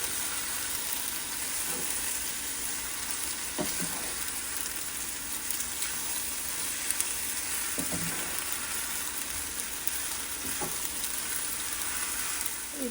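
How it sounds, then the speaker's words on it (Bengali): Boiled pasta being stirred and mixed in a pan, a steady close frying hiss throughout with a few soft scraping strokes of the utensil at intervals. "এবার এটাকে ভালো করে একটুখানি মিশিয়ে নেব, মিক্স করে নেব।"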